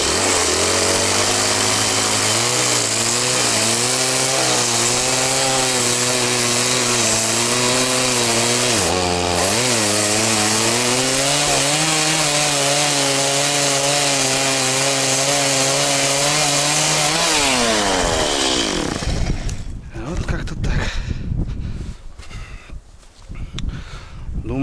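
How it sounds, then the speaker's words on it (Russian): Steady, loud sawing on a wooden beam with a rhythmic back-and-forth rasp that changes pitch as strokes vary, then breaks into irregular scraping and knocks toward the end. "Ну, там пилой пошаркаю."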